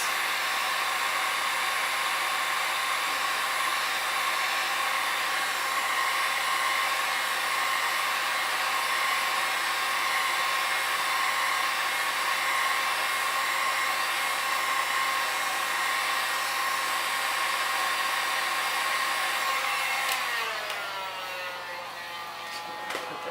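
A hair dryer or heat gun is set on high to heat a Mercedes car emblem, blowing in a steady, close, continuous roar that winds down near the end. No one speaks.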